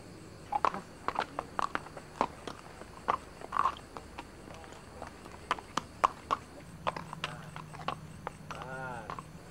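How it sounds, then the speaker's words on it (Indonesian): A horse walks at night, its hooves clip-clopping in an uneven series of sharp, moderately close knocks over about ten seconds, with a low hum and faint background noise underneath. "Kuda milik siapa malam-malam dilepas?"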